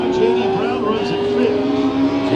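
Race cars in a heat race on a dirt track, a continuous loud engine drone with a steady pitch, heard beneath a commentator's voice for the whole stretch.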